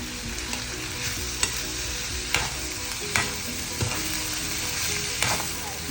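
Green chilies fry in oil with a continuous close sizzle, broken by a few soft scrapes and clicks of a spoon stirring the pan, and no one speaking.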